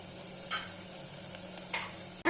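Beef curry being sautéed in a pan, with a low, steady sizzle and a couple of brief scraping stirs, then a sharp knock at the end; fairly quiet and with no voices.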